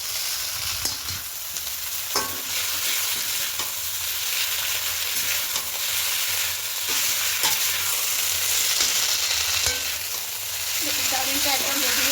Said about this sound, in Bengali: এবার খুব ভালো করে সব কিছু মিশিয়ে নেব। আর গ্যাসের আঁচটা হাইতেই থাকবে।